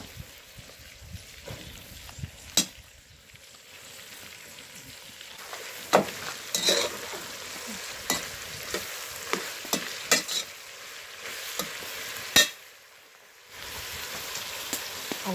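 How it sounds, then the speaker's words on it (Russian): Meat with onion and carrot frying in a pot over an outdoor campfire for soldier's porridge, a soft crackling sizzle punctuated by sharp spoon clanks and stirs, moderately close. "мясо обжарилось, немножко сейчас присолим и добавляем лучок, потом морковочку. И это все опять обжариваем."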